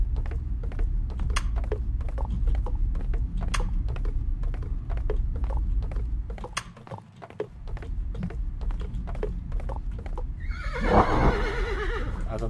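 In the video game Soul Axiom, sharp rhythmic clicks and thuds like galloping hooves repeat steadily, ending with a loud horse neigh near the finish, with no voices.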